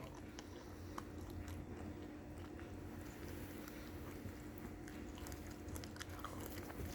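Crunchy fried squid being chewed close up, a quiet run of soft crunchy bites and mastication with no voices.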